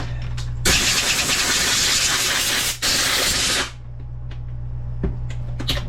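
A small engine sprays and sputters into a loud, steady roar after the choke is used, with a brief dip mid-run before cutting back to quieter clicks and shuffling.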